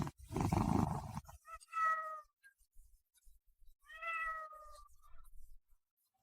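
A cat, one of two kittens from the same litter, meows twice in a quiet room, two clear, fairly close calls a couple of seconds apart after a brief burst of rustling noise at the start.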